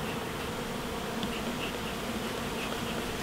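Honeybees buzz densely and continuously close by at an open hive, a steady swarm hum with occasional individual bees droning past.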